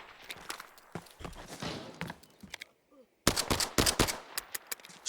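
Rapid rifle fire in the video game Arena Breakout Infinite, a low-recoil weapon, comes as dense bursts of sharp shots with a brief gap in the middle, mixed with footsteps and game sounds.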